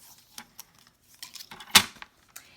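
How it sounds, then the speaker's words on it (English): A trimmer blade slices cardstock in one sharp swipe near the end, with a few small clicks and taps of handling before it and no voices. "And then I'm just going to cut down at 4."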